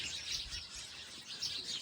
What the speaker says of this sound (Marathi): चिमण्या काय एवढ्या ओरडतायत